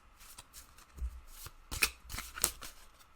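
A deck of animal cards is riffled and shuffled in several quick, papery bursts, close by and fairly quiet, with soft taps in between.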